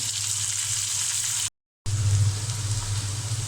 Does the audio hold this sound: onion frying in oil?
yes